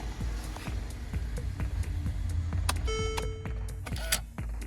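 A faint mechanical whirring hum from the electronic steering lock motor in a Mercedes-Benz steering column, with light tapping and a few key clicks; brief electronic tones midway.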